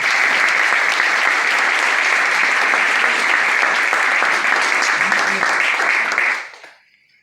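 Loud, sustained applause from a crowd in a hall after three leaders are introduced at a business opportunity meeting, dense clapping holding steady for about six seconds before fading out.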